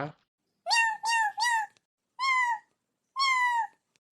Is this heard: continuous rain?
no